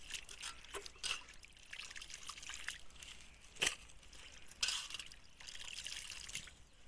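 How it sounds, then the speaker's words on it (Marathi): Goat liver being rinsed with water in a vessel, with close, quiet trickling, pouring and sloshing that comes in uneven bursts, with no talking over it. "दोन चार पाण्यानं खळ खळ खळ खळ धुवून घेतलं"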